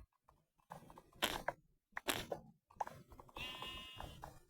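Bleating video game sheep call out in several short, nasal cries at moderate distance, mixed with bursts of hissing noise and a high electronic tone.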